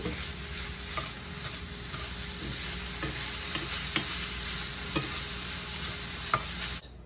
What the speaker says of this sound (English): Give that a good stir while it's cooking.